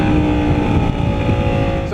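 A 2012 Lamborghini Gallardo LP 560-4 Spyder engine roars through a downshift, loud and close with wind rush over the open-top car, a brief continuous rumble.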